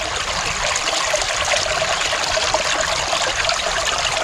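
River water runs steadily through a Shark sluice box at a gold-prospecting camp, a loud continuous close-up trickling rush with no talking.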